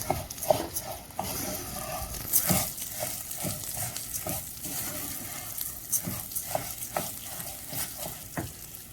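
Grains of Palestinian maftool being mixed with olive oil, giving a steady scraping, stirring rustle with repeated soft clicks and taps of a utensil against the bowl, fairly close.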